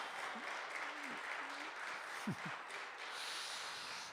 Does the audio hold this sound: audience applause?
yes